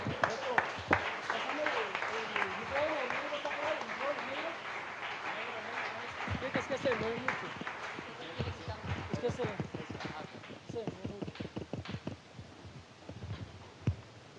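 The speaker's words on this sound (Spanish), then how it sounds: "¿Por qué no le das un fuerte aplauso al Señor?" A church congregation applauds during a Spanish-language sermon. A voice speaks over the start, then a crowd claps in a dense, fairly rhythmic patter that fades out.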